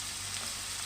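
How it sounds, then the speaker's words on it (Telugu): Ginger garlic paste frying in hot oil for chicken semiya gives a steady, close sizzle that hisses evenly throughout, with no voices. "ఇలా చక్కగా మనము ఫ్రై చేసుకుందామండి ఒక 5 మినిట్స్ వరకు."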